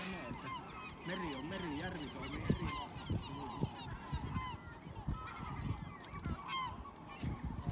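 Geese honk repeatedly in a noisy, overlapping chorus nearby on a windy, cold ice-fishing lake in Finland, with gusts of wind and a faint voice now and then.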